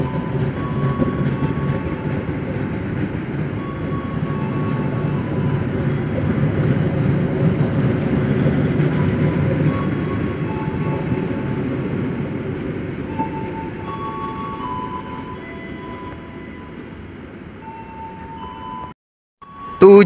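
The Bangunkarta train arrives at Jombang station, rumbling heavily and steadily for about twenty seconds, with faint squealing tones over the low roar, before a brief sudden drop near the end.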